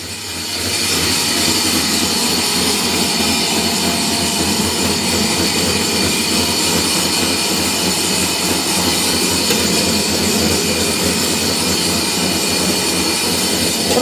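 A machine grinding compound feed for rabbits runs continuously at night, a loud, close, unbroken mechanical roar and rattle that holds steady throughout, with no voices over it.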